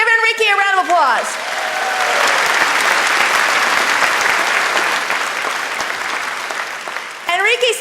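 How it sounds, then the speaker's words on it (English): An audience applauds during a talk on generational differences, a dense, loud burst of clapping lasting several seconds, with voiced sounds at the start and end around the applause. "Give Enrique a round of applause."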